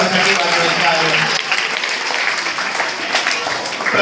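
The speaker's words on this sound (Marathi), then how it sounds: "सर्व विद्यार्थ्यांनी जोरदार टाळ्या या विद्यार्थ्यांच्या कौतुकासाठी वाजवायच्या आहेत" Students clapping loudly together at a school and library honoring ceremony, a dense sustained round of applause with some voices mixed in.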